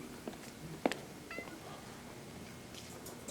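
A cream-coloured exotic shorthair cat at a cat show gives a few short, faint meows amid quiet room noise and scattered soft handling sounds.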